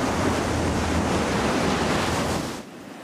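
A boat crosses the Seto Inland Sea with a loud, steady rush of wind and churning water that drops off sharply near the end.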